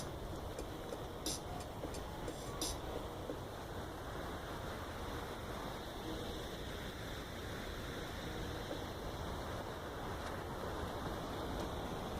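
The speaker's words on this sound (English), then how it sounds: "You can actually hear the water." Faint, steady rushing of water flowing near an 1830s mill reservoir and mill race feeder, a distant, continuous wash with no talk over it.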